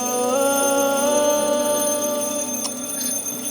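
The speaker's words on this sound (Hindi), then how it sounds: "प्लीज अलार्म बंद करो ना यार" An alarm clock rings continuously with a bright, steady metallic trill, loud and close, in a domestic bedroom scene, with no voices over it.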